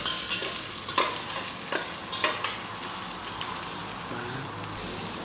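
Garlic dropped into hot cooking oil for chicken tinola, a continuous soft sizzle and crackle with a few sharper pops and stirring scrapes near the start.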